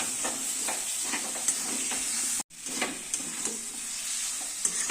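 Taro stems being stirred in a pan with ghee and garam masala, a steady close sizzle with scraping stir strokes, briefly cut off near the middle before resuming.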